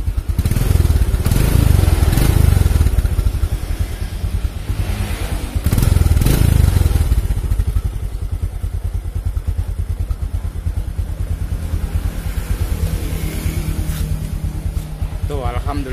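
Motorcycle engine idling steadily after being started, a close, continuous putter with two louder revs early on, and a voice speaking over it.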